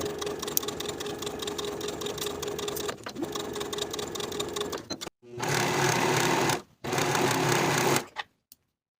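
A sewing machine attaches a pant pocket with a quarter-inch seam, running a long steady stretch and then two faster, louder bursts with brief stops between them, close and clear.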